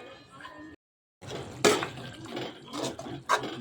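A metal lid set onto a pot of simmering chicken liver gravy, giving a couple of clattering clanks amid light kitchen rustle and a brief silent gap.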